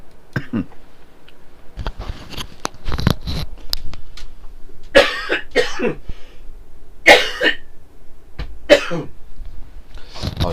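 A man coughs repeatedly indoors, short harsh bursts spaced irregularly with throat clearing between them, close and fairly loud, after dust at a market.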